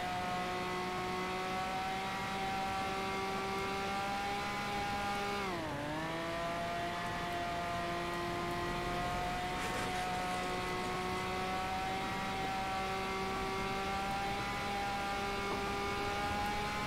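Engine of a van driven fast in GTA NoPixel, a steady loud drone with layered harmonics that dips briefly mid-run as the engine note drops, then climbs back and holds alone.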